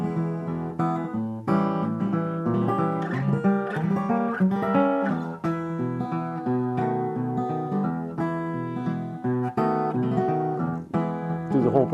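An acoustic guitar plays triple-roll strums through a progression of diminished chords, with fast rhythmic rolled attacks ringing out close and clear and no talking.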